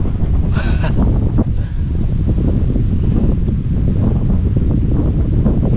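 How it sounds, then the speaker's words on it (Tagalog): Strong wind roars across a foggy mountaintop on Mt. Banoy in Batangas City, a loud, continuous blustery rumble buffeting close and unbroken throughout, with no voices. "Tapos lalo lumalakas ang hangin."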